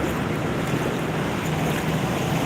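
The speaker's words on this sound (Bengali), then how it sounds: "রোডের মেন হল দিয়ে পানি যাওয়ার জন্য প্রচুর স্রোত" Floodwater rushes in a strong current along a road in Dubai after heavy rain, a dense, constant roar of flowing water that stays loud and unbroken throughout.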